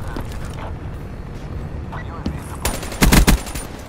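Video game gunfire from Call of Duty Black Ops 3 in a domination match, with a muffled, continuous background of fire that gives way to a few loud, close bursts near the end.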